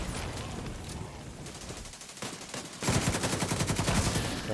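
Sustained automatic gunfire in the video game The Division 2, with a denser, louder volley of rapid shots in the second half.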